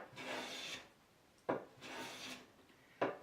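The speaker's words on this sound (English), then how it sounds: "I'm just flattening the glue faces." Wood faces glued for a sanding block being flattened by hand with dry rasping strokes, two long scrubbing passes each followed by a sharp knock, close and alone.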